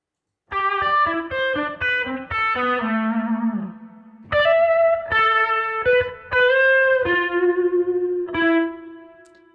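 Electric guitar played through the Rematrix reverb Exciter 1 preset, a series of bright, saturated chords and sustained notes with short pauses between phrases and a lingering tail, loud and alone.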